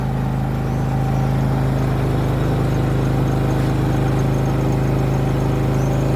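A Loncin LC 4500i inverter generator runs steadily under a 2 kW electric kettle load, a loud continuous engine drone with a strong low hum and no change in pace, heard alone and close.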